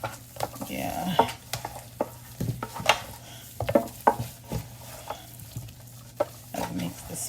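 Spices being mixed into chicken in a pan, with repeated stirring scrapes and clinks over a quiet sizzle, close and irregular, no talking.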